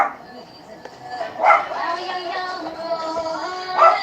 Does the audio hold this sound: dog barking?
yes